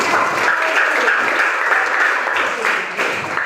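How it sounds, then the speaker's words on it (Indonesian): Junior high school students in an Indonesian classroom give their teacher a brief round of applause, with dense, even clapping from the whole class lasting a few seconds. "Berikutnya kita kasih aplaus untuk Ibu."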